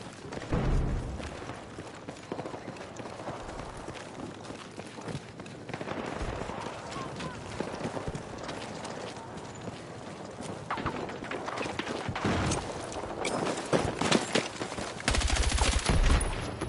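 Rapid gunfire from Battlefield 6 gameplay rattles in dense bursts mixed with clattering mechanical effects, with players chatting over the action.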